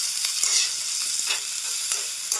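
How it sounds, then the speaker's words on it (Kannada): Finely chopped onions fry in a pan for a soya chunks snack, producing a bright, steady hiss of oil with brief crackling bursts and faint stirring, near and moderately loud. "ಇದಕ್ಕೆ ಒಂದು ಸಣ್ಣದಾಗಿ ಹೆಚ್ಚಿರುವಂಥ ಈರುಳ್ಳಿನ ಮಿಕ್ಸ್ ಮಾಡಿಕೊಂಡು ಇದನ್ನು ಸ್ವಲ್ಪ ಹೊತ್ತು ಫ್ರೈ ಮಾಡ್ಕೊಳ್ಳೋಣ"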